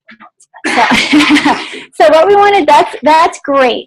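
A single loud sneeze from an audience member at a cancer prevention talk, bursting out near the start and followed straight away by a speaker's voice continuing.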